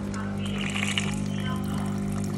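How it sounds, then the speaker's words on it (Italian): A robot mop's docking station runs its self-cleaning cycle, discharging water with a steady wet rush and trickle over a low mechanical hum, close and continuous. "Intanto lui dice che è in avvio la pulizia autonoma. Come potrete vedere, sta scaricando dell'acqua."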